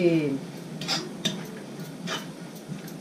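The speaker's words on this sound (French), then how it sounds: "les épices et je mélange comme il faut" Ground cinnamon, cardamom and ginger poured into a pot of mango chutney and stirred, giving a few soft utensil scrapes and clinks against the pot, close and fairly quiet with no talk.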